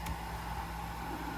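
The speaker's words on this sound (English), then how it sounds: "I'm charging up a battery right now. That's probably the noise you can hear" A battery charger runs while charging an RC car battery for a Wltoys 144001, giving off a steady, faint electrical whine and low hum that holds constant with no breaks.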